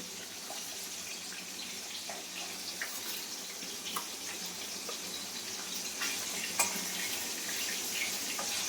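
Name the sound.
hilsa fish frying in oil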